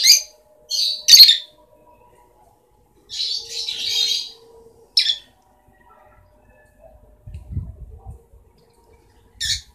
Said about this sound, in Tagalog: Ayan na po, may ibon na po sa loob.